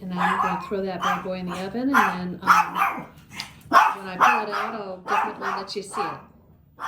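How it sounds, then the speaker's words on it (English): A dog barks and yips intermittently in a home kitchen during enchilada preparation, heard behind continuous close speech from a person talking throughout. "Sorry about the dog."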